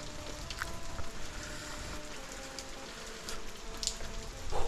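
Steady rain falls in a wash of broadband hiss with gusting wind and swaying trees on a cold, wet day, a continuous outdoor patter with a few louder bursts and no talk.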